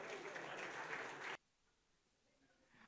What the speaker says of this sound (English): a big round of applause for all my presidents.